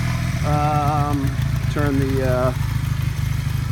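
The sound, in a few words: motorcycle engine idling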